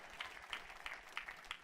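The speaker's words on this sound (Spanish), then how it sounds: "Denle un fuerte aplauso al Rey de la Gloria en esta mañana" Applause from a congregation at a church service, faint and distant, with soft claps rising in repeated bursts throughout.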